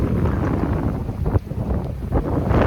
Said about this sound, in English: It's getting too windy